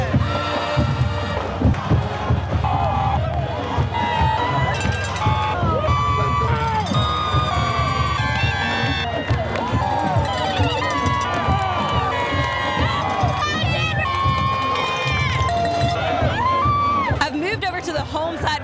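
Student section crowd at a Friday night high school football game cheering and shouting loudly and continuously, dense roar of many voices with whoops, announcer-style talk mixed in.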